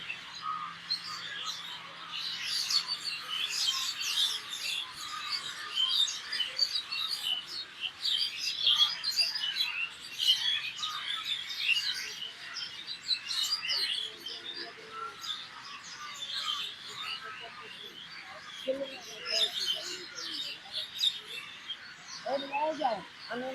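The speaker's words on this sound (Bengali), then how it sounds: "গাছে গাছে শুধু পাখি আর পাখি বক পাখি" A dense chorus of many birds, herons among them, calls and chirps from the trees at the Bayazid Bostami shrine in Chattogram. Overlapping tweets run steadily throughout at moderate distance.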